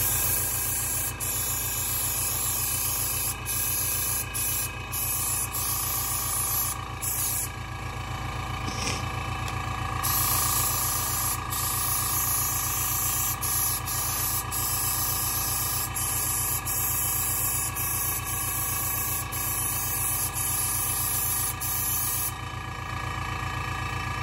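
An airbrush compressor runs steadily with a continuous hiss and low hum while painting a resin model, with faint clicks and small shifts in the noise throughout.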